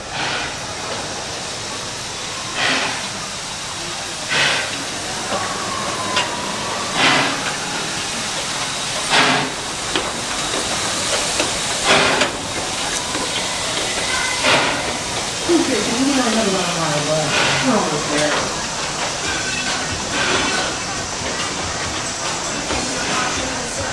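A park train on the Kings Island and Miami Valley Railroad hisses and rumbles steadily, with repeated bursts of steam or clatter spaced every few seconds and a voice talking intermittently over it.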